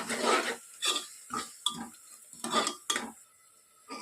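Tomato masala for mutton curry is stirred and fried in a pan, with rhythmic metal spoon scrapes and clinks against the pan, about six close strokes over a faint sizzle.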